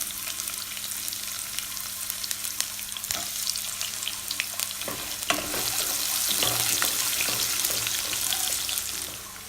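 Sliced onions sizzle and fry steadily in hot oil with cinnamon, cloves and fennel for a potato kurma, a dense continuous crackle that swells louder partway through, with occasional stirring scrapes and no voices.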